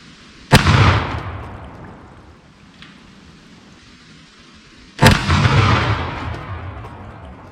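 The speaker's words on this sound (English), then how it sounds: "After the round, about a second after the bang, listen, you're going to hear that slug slam into a tree downrange." Two sharp, loud 12 gauge slug blasts outdoors, each a sudden crack followed by a long rolling echo that trails off over several seconds, the shots spaced about four and a half seconds apart.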